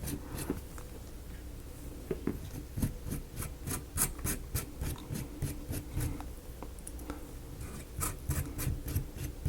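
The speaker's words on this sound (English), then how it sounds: "good time to throw some wax on this side where I've got access to it" Wax is rubbed onto the side of a plastic marble run track, giving a rapid series of close scratchy rubbing strokes in an uneven rhythm, with no voices.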